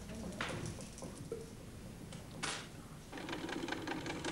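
A sewing machine in a school runs with a steady mechanical whir, stopping and restarting in short bursts, fairly near and with no talking.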